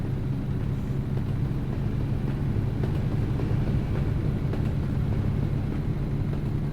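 A train rumbles past in American Truck Simulator, a steady low droning roar with faint rhythmic clatter that stays loud and even for several seconds, no talking.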